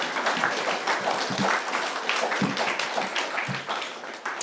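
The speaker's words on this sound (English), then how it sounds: "Also applause." Applause from the audience at a student game-industry conference talk, dense and continuous clapping from a crowd filling the room, with a few louder individual claps standing out near the listener.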